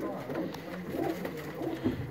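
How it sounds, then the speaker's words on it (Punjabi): A blue kamagar pigeon coos in low, rolling phrases repeated close by, with a person talking faintly in the background. "ਨੀਲਾ ਕਮੱਗਰ ਕਬੂਤਰ"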